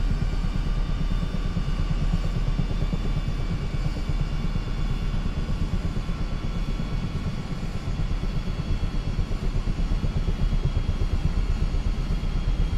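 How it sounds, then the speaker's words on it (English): An aircraft engine in Microsoft Flight Simulator 2024 gives a steady, loud, continuous droning rumble that holds level throughout, with no talking. "I'm gonna come crashing down now because the engine is powering down"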